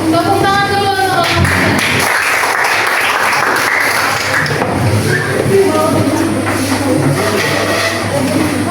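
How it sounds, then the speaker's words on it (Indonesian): Classmates clap for a student group about to present in a classroom lesson on C3, C4 and CAM plants; dense, loud clapping fills the room throughout, with some background chatter and shuffling. "Tepuk tangan dulu untuk kelompok"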